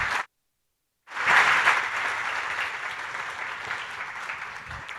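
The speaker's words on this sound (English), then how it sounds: "The first is a round of applause for the panel." Sustained applause from a conference audience for a discussion panel, starting after a brief pause and holding loud and steady as a dense crowd of clapping hands.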